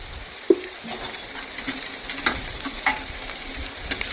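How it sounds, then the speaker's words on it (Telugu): Chopped onions and green chillies frying with a pinch of turmeric for tomato rasam, a low steady sizzle with occasional light clinks and taps of a utensil against the pan, close and unaccompanied by speech. "ఉల్లిపాయలు కట్ చేసుకునే మిశ్రమాన్ని వేసేసుకుందాం. కొంచెం దోరగా ఫ్రై చేసుకుందాం."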